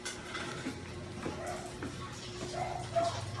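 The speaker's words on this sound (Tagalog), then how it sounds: "Dogs!" Dogs bark and yip in short, scattered bursts at a moderate distance, mixed in with people talking nearby.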